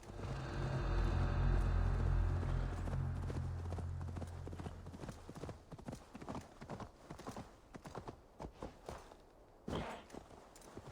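Hooves clip-clop in the video game Assassin's Creed Valhalla as a horse moves, rhythmic thuds over a low rumble at first, then sparser distinct hoofbeats, fairly faint overall.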